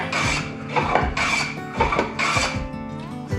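A metal chisel rasps against an abrasive surface during restoration in five close, rhythmic back-and-forth strokes, each a loud gritty scrape with short pauses between.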